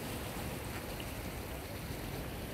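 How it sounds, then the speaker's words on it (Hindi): Steady sea waves wash in a continuous broadband rush, fairly faint and even, with a light wind roughness and no voices over it. "समुंदर का ही लहरा है।"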